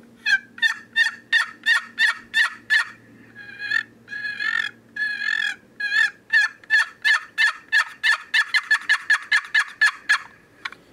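Wild turkey toms shock-gobbling in reply to a Turkey Strutter call, with loud, rapid, repeated rattling gobbles and yelps sounding close and clear in a long run of evenly spaced bursts and no talk.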